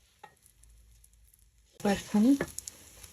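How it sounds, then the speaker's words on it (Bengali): Pulao rice frying in a pan, silent at first and then a burst of loud sizzling and stirring near the end, with a voice heard over it. "আমার পোলাও চালগুলো খুব ভালো করে ভাজা হয়ে গেছে"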